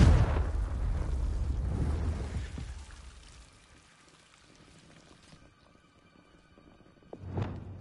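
A Confringo blasting spell goes off in Hogwarts Legacy, a loud burst with a long noisy rumble that fades over a few seconds, followed by a quiet stretch and a second short sharp crack near the end.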